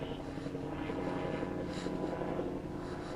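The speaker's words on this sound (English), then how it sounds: "I don't know if the helicopter's going to spook them." A helicopter passes overhead above an open field, a steady loud rotor and engine drone filling the whole stretch without pause.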